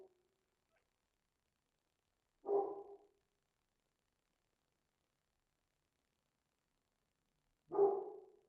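A dog barks twice at a distance, single short woofs several seconds apart, faint against an otherwise silent background.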